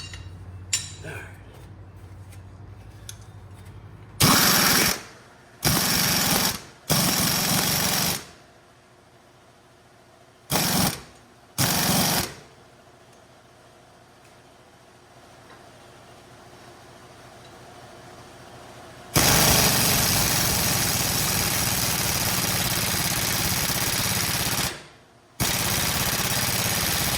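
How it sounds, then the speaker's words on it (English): Air compressor running and building pressure in a truck repair shop, with loud broadband bursts of an air hammer working on a spring bushing bracket, several short blasts early on and a long sustained run near the end. "Air compressor build up and finish hammering on that."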